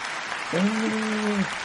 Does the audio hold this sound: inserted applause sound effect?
yes